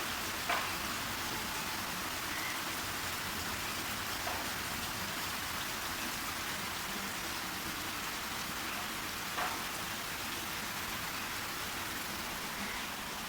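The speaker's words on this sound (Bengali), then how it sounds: "এখন 10:30 বাজতেছে প্রচুর বৃষ্টি হচ্ছে" Heavy rain falls steadily in a dense, even hiss for the whole stretch, with a few faint drips or knocks standing out briefly and no speech over it.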